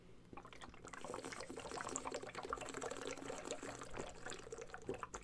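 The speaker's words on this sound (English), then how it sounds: "after this guzzle of water, I'm going to tell you why" Someone guzzles a drink of water close by, making quiet, wet swallowing and sloshing sounds in quick succession over a few seconds, with no talking.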